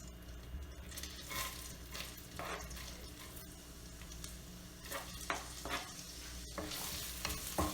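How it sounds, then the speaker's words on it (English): Ginger and garlic sizzle in melted butter in a pan while being stirred, a soft continuous frying hiss punctuated by scraping and stirring clatter, fairly quiet and close. "Now into this melted butter, I'm adding in ginger and garlic"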